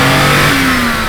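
BMW E28 M5 straight-six engine with individual throttle bodies revving hard, a loud, close, rising intake roar held steady for a second with no voices.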